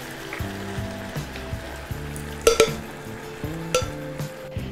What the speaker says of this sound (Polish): Teraz wszystko ze sobą mieszam i zagotowuję.